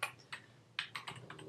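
A computer keyboard is typed on in a quick, uneven run of light clicking keystrokes, close and fairly quiet.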